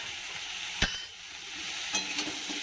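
Ginger and green chili paste fries in a pan, giving a soft, even sizzle punctuated by two sharp spatula knocks, close by and without speech.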